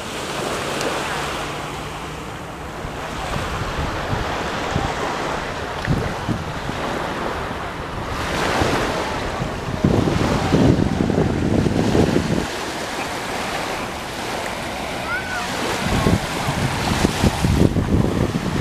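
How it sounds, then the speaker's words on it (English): Waves wash ashore at Orchard Beach in Pelham Bay Park, Bronx, New York City, with gusty wind buffeting the microphone; surges swell and recede irregularly, fairly close, with no voices. "Here is your 360 view of Orchard Beach in the Bronx."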